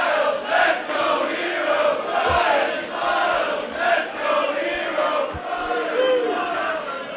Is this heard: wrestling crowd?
yes